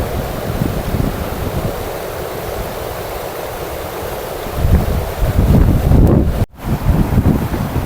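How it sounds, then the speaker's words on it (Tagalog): Strong floodwater rushing over a bridge after heavy rain, a loud continuous roar and wash of turbulent water with heavy wind buffeting the microphone, swelling louder near the end and broken by a brief dropout. "Ang napakalakas po ng baha na ito."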